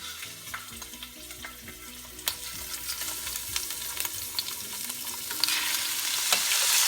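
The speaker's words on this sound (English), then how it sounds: "we're going to add the shrimp right into the hot olive oil" Shrimp sear in hot olive oil in a pan, a steady crackling sizzle with sharp pops and occasional scraping stirs, the frying growing louder toward the end.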